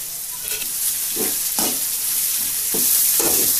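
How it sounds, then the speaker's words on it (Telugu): Onions fry in a hot pan with a constant bright sizzle while a spoon scrapes and stirs them in several quick, repeated strokes, heard close with no talk. "ఉల్లిపాయలు ఎర్రబడే వరకు వేయించుకోవాలి"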